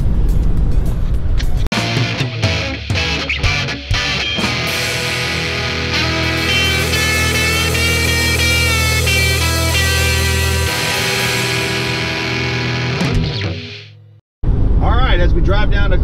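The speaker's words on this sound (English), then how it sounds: "As we drive down to Carterville, Missouri to the Grizzly Jig Tackle Show" A car drives steadily down a highway toward Carterville, Missouri, its engine and road noise forming a loud, continuous hum with wind rush, a few thumps early on, then a brief drop to quiet before the drone resumes.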